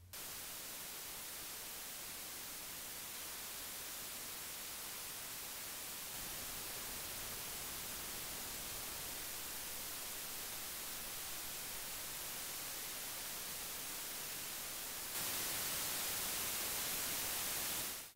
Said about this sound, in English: The EIN lets you directly compare the noise of different preamps in different interfaces